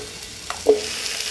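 Onions and peppers hit a hot grill greased with a little oil, giving a short, soft sizzle after a faint tap, with a brief bright hiss that settles into steady low frying.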